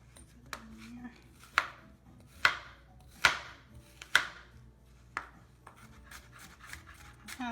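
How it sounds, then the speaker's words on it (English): Knife chopping onion finely on a board, about eight sharp irregular chops with soft scraping between them, close and fairly quiet. "Then I like to go ahead and chop up a little bit of onion."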